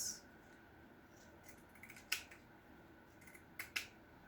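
Scissors snip through vintage fabric in a quiet room, with a few faint, crisp cuts spaced apart and two sharper snips close together near the end.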